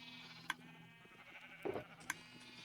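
Sheep bleating in Minecraft: a quiet, close bleat stands out among a few faint clicks and ticks over a low, steady background hum.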